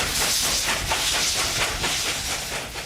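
A steam locomotive hisses loudly and continuously, close by, with a faint pulsing rhythm running through the broad wash of steam.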